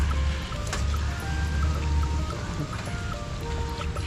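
Mountain-fed water running from a hose during a motorcycle wash, a steady hissing, trickling flow with low rumbling underneath and faint tonal sounds, moderately close.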